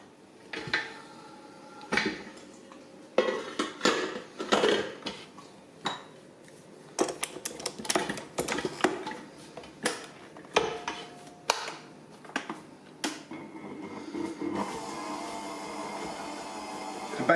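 Vegan biscuit base ingredients are mixed with maple syrup in a bowl, producing irregular scraping, knocking and clinking of utensil against dish, sometimes rapid, sometimes paused, close and fairly quiet.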